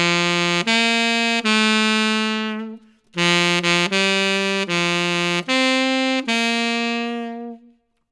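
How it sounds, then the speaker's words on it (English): A tenor saxophone plays the opening half of Happy Birthday, loud and close with sustained rich notes in two phrases separated by a short breath, alone with no talking. "And happy birthday on the tenor, the first half that we've learned in this lesson, will sound like this."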